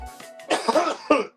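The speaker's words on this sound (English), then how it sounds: "That's what's making me want to cough." A few harsh coughs and throat-clearing bursts close by, coming in quick uneven fits with brief pauses between.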